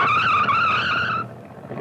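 A car skids on a test track, its tires letting out a loud, sustained squeal for over a second before it cuts off and leaves a low rumble behind.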